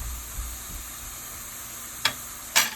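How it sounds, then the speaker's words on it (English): Ground beef sizzles steadily in a pot with a constant frying hiss, and two brief utensil clanks near the end. "I place my ground beef into the pot, and I'm gonna leave it to fry it up"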